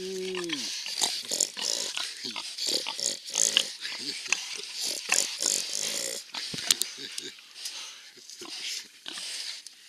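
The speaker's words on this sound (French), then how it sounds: "Les cochons." Pigs on a farm grunt and oink in repeated short bursts, close by, while people talk over them.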